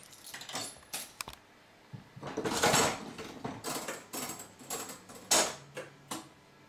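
An Action Line one-armed bandit slot machine has its lever pulled and its reels spin. The mechanism gives a run of clattering, ticking mechanical clicks and rattles in several bursts, close and moderately loud, with no talk.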